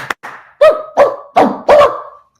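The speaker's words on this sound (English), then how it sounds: "The dog is barking to say hello to all the punters." A dog barks four times in close succession after a short yip, loud and near, with quiet gaps between the barks.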